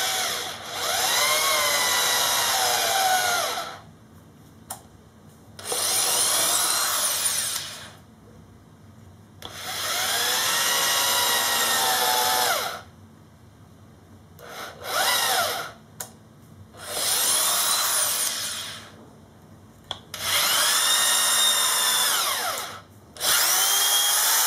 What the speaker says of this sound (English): go ahead and drill these holes a tiny bit farther in